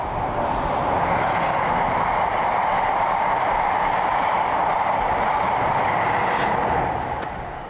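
A train rumbles past with a sustained, even roar and a hint of wheel noise, fairly close and loud throughout before fading slightly at the end.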